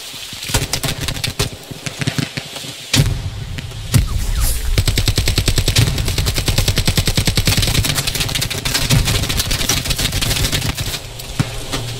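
Sustained automatic machine gun fire in the World War II shooter Hell Let Loose, rapid rhythmic bursts running almost continuously and loud, with a brief pause near the start and no talk.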